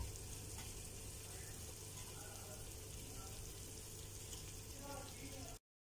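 Chicken tikka pieces frying in a cooked-down masala for a homemade restaurant-style biryani, giving a steady, close sizzle with faint stirring scrapes throughout before cutting off near the end.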